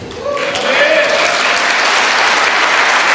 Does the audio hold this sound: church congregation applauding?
yes